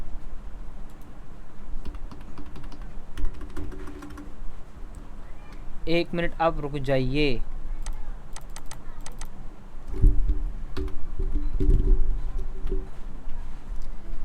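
Repeated presses of the minus key on a computer keyboard during a Microsoft Word lesson, heard as quick light clicks scattered through the clip alongside a man's speech, with a brief tonal chirp midway.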